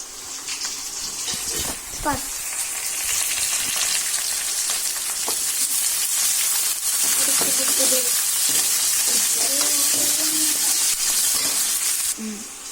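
Chana dal, urad dal and curry leaves hit hot oil for a radish chutney, giving a loud, dense, continuous crackle and sizzle with stirring scrapes, while someone talks faintly underneath.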